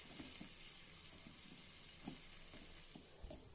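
Masala powder and ginger garlic paste fry in a pan for biryani, a soft, steady sizzle with faint stirring taps scattered through it.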